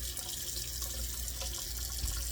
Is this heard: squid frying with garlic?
no